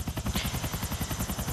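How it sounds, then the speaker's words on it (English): A helicopter in the video game Grand Theft Auto IV chops loudly overhead, its rotor blades pulsing in a fast, steady rhythm that fills the whole moment with no talking. "I don't have RPGs, otherwise this helicopter will be long gone."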